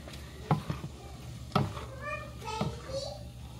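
Pancit with bihon noodles is stirred in a pan over a low sizzle, with a few sharp utensil knocks against the pan, while a voice chatters in the background.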